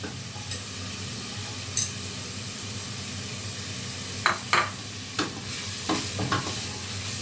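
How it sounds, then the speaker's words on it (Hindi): A steady sizzle of ginger and garlic sautéing in a pan for desi chicken broth, with a few sharp scrapes and taps from a spoon stirring near the end. "प्याज को ज़रा हमने सोते किया, प्याज को सोते किया, अदरक लहसुन को भी डाल देंगे।"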